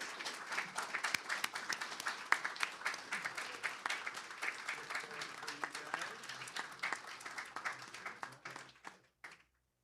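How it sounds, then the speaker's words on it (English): A warm round of applause from the audience for the Legends panel of shuttle program veterans at ShuttleFest IV in a Titusville hotel, with dense, steady clapping that tapers off near the end. "I'd like to suggest a very warm round of applause for our Legends panel today."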